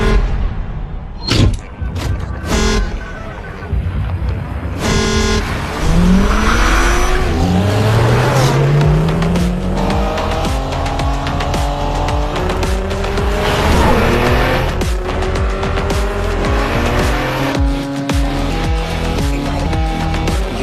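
Race cars at Buddh International Circuit during a World Racing League race, engines roaring and sweeping past in continuous loud passes with rising and falling pitch, tire squeal and skidding, over a constant dense racing din.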